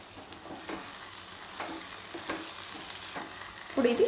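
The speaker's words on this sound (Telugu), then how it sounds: "ఇలా ఉప్పు కారం వేసేసి కలిపేసుకున్నాం కదండి" Salt and chili powder being stirred into a drumstick (moringa) curry, giving soft scraping strokes of a spoon in the pan at a steady pace over a faint sizzle, close and moderately quiet, with no talking.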